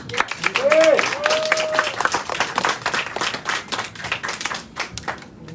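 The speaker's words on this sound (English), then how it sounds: "once again, guys, a huge round of applause for Raed and Allison, our Mr. and Miss Supra" Lively audience clapping at the Mister and Miss Supranational Philippines 2022 pageant, with a bright cheer or whoop near the start, then uneven, gradually thinning claps beneath crowd voices.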